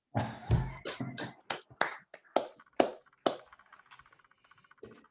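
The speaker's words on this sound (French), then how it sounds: "ouvrir vos micros pour un bel applaudissement pour Xavier Comtesse, s'il vous plaît" A sparse handful of claps and snaps from an online audience with open microphones at a talk, a few loud hits then softer scattered ones trailing off, with faint chatter in the background.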